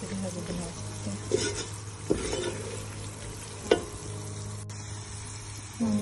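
Chicken frying in a pan for egg fried rice, a soft sizzle with a few sharp clinks and scrapes of stirring, while someone talks throughout.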